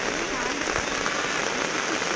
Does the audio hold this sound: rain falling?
yes